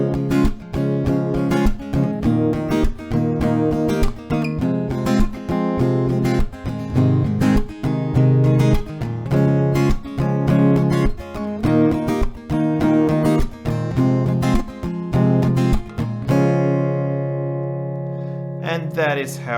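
Acoustic guitar strumming the pre-chorus of a song, two rounds of steady rhythmic chords played up close, ending on a ringing chord that sustains and fades.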